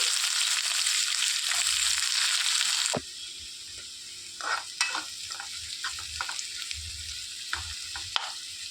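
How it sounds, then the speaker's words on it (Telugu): Chopped onions fry in hot oil with cumin seeds and curry leaves for an egg tomato curry, a bright sizzle that drops sharply after a few seconds into softer crackling with spatula stirring and scraping. "ఉల్లిపాయలు బాగా వేయించుకోవాలండి"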